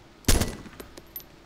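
A single loud gunshot fired at a zombie in the video game DayZ, a sharp burst that rings out briefly and then tails off, with a couple of faint, short clicks afterward and no talking.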